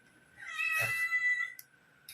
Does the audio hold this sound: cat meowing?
yes